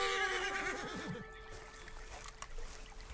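Horse neighing in the video game Red Dead Redemption 2: a single loud, quavering whinny that falls in pitch and trails off, followed by quieter ambient game sounds.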